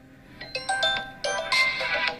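An incoming-call ringtone on a phone chimes in a rapid series of bright, repeating melodic tones, fairly close and clear, growing slightly fuller toward the end with no speech over it.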